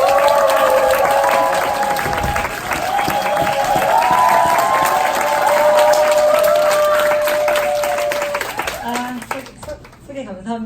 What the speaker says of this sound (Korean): 큰 함성 박수 부탁드립니다.